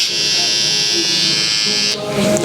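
A cordless hair trimmer buzzes steadily and loudly for about two seconds, then cuts out and a second trimmer, a Babyliss FX, takes over with a different hum, while a voice talks over both.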